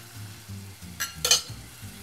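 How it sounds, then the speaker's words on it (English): Tomatoes and garlic frying in a pan give a faint, steady sizzle under a low tonal background, with a brief brighter crackle and clatter near the middle. "So while our tomatoes are frying, we can go ahead and we can fry our piece of bread."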